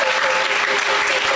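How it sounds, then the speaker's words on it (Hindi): Loud, dense audience applause fills the hall at a spiritual discourse, steady continuous clapping from a large crowd with no break. "एक बार उनके लिए जोरदार तालियों के साथ"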